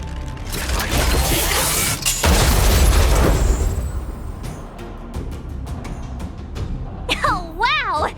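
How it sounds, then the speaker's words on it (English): An automaton stealth bomb explodes in Honkai Star Rail with a loud booming burst and rumbling debris, followed by scattered mechanical clanks and a voice speaking near the end. "We wiped them all out in a single explosion!"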